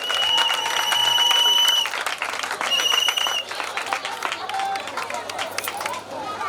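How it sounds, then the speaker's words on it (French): Church thanksgiving ceremony audience applauding and cheering for Papa Kofi and Saturnin, dense clapping with shouts and a voice over a loudspeaker, loud at first then easing slightly. "On va acclamer pour eux, on va acclamer."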